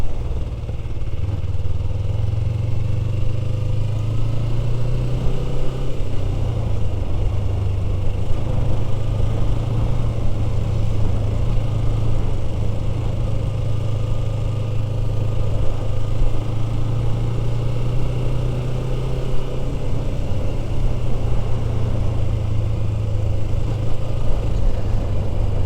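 Motorcycle cruising steadily at night into a strong headwind: a continuous low engine drone with a slight pitch shift partway through, buried under heavy, constant wind roar with no talking.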